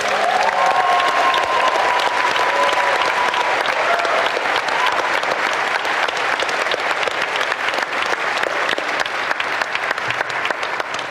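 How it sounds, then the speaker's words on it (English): An audience at a Dota 2 documentary premiere Q&A breaks into a loud, sustained round of applause. The dense clapping holds steady throughout and is heard alone, with no voices over it. "But can we have a round of applause for HY?"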